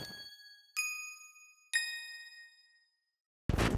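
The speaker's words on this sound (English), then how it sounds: "Next off, we're going to move on to a second pair of bells." Sparkly bell synth presets Childlike and Tinklebell in FL Studio, three bright chiming bell notes struck about a second apart, each ringing out and fading cleanly in silence, followed by a short burst of sound at the end.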